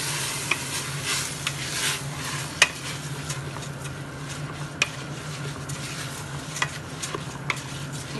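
Mutton biryani masala with turmeric frying in a pan, a steady soft sizzle with occasional sharp ticks of a spoon or spatula, close but fairly quiet, no voices.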